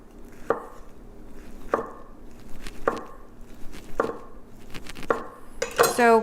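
A knife slices through a rolled strip of thin egg garnish on a cutting board, five evenly spaced sharp taps on the board followed by a quicker clattering flurry, close up.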